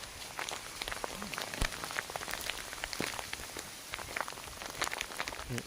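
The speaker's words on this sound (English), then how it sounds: "It started hailing again." Hail falls outdoors in a dense, steady patter of small sharp ticks and taps, near and fairly loud, with no voices.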